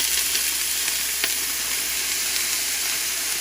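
Onion, celery, parsley, green and red peppers sauté in a hot pan for vegetarian rice, a loud, continuous close hiss of sizzling with a faint scrape of stirring and no talking.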